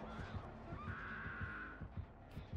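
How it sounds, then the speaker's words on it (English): A killer's terror radius heartbeat in the game Dead by Daylight thumps in a steady, evenly spaced rhythm, about two beats a second, under a droning tone and other game noise, with no talk. "I hear heartbeats."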